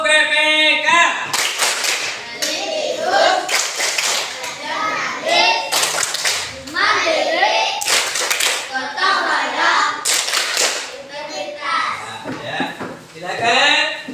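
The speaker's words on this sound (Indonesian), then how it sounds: "Tepuk PPK." Schoolchildren in an elementary classroom perform a PPK clapping chant, with sharp bursts of unison hand claps in a rhythmic pattern and children's voices chanting between them, close and loud.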